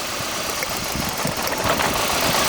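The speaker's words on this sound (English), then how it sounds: "There is a big change to the engine and we are listening to the cracking sound of the spark" A car engine runs during a power balance test, a loud, steady, rough idle with close mechanical vibration and irregular knocking pulses, no voices.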